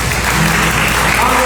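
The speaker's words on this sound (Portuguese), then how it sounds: "Aplauda o Senhor, irmãos." A church congregation at a Sunday service applauds in a steady, dense wash of clapping that stays loud throughout, with voices and music underneath.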